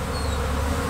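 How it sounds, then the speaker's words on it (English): A honey bee swarm hangs high in a tree, giving a dense, continuous buzzing drone that stays steady and loud throughout. "we got a swarm of bees up in the tree up here"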